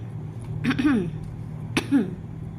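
A person coughs twice, about a second apart, each a short, sharp hack with a brief rasping tail, close to the listener over a faint steady background hum.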